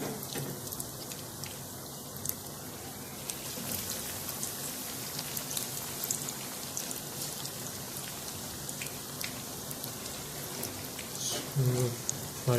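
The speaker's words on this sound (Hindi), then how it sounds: "फ्राई करते हैं।" Potato donuts frying in oil over a low flame make a steady, dense sizzle and crackle like light rain that runs throughout, with a few louder pops near the end.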